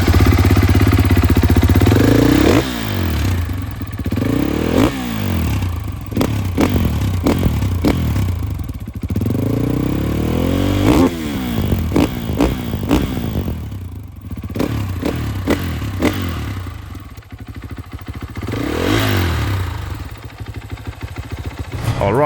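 A Husqvarna FE450 motorcycle with its stock exhaust, brand new, loud and close, idling then revving repeatedly in rising and falling bursts with mechanical clatter between throttle blips.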